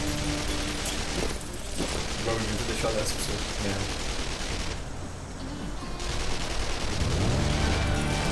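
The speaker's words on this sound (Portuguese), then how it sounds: "esse bicho solta os três tiros de uma vez" Rapid bursts of enemy gunfire from the video game Shoot Many Robots, dense and continuous, with a person talking over the shooting.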